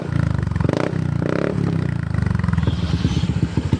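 A Honda PCX 160 scooter fitted with a Daytona racing exhaust revs loudly close by, throaty blips rising and falling, then settles into a rough, popping idle.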